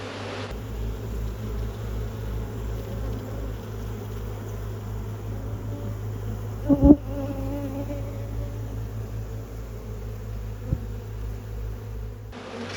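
Honeybees drone steadily inside a queenless hive opened for inspection, a close, continuous buzz with a brief louder knock near the middle.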